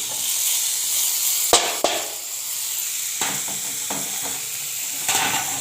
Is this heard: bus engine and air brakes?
no